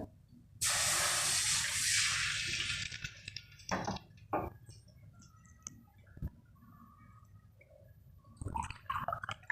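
Water pours into a cooking pot for traditional horse gram flour shingole, a loud rushing, hissing gush lasting about three seconds, followed by quieter scattered clinks and kitchen sounds.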